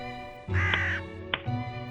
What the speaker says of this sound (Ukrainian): прилетіли птахи і видзьобали його